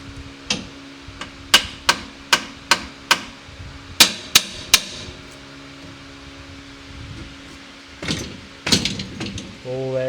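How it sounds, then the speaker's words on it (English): Sharp metallic hammer blows, about ten in a quick irregular series, knock at a stuck locating bolt during differential work on a vehicle, with a later cluster of clanks and faint mechanical noise. "Get that hammer."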